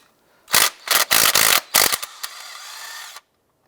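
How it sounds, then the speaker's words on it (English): Socket wrench with extension working a spark plug out of a 2001-2007 Ford Escape engine: several loud close ratcheting bursts, then a steadier fainter grinding turn before stopping. "Remove your spark plug."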